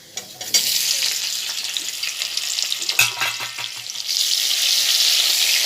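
Tomato tipped into hot oil tempered with whole cumin, setting off a loud hiss that flares up, dips, then swells again near the end, along with a few clatters of stirring; nobody speaks.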